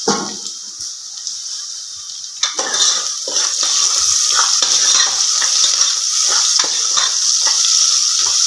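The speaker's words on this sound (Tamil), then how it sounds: "நல்லா ப்ரௌன் நிறமாக வெங்காயம் வதங்கணுங்க." Onions sautéing in a pan for beef gravy, browning with a little salt: a steady close sizzle with repeated scraping stirs of a spoon against the pan, no talking.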